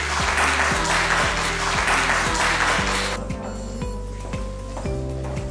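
A crowd at an awards show breaks into loud, sustained clapping over a looping low music beat. The applause fades partway through, and the music carries on alone.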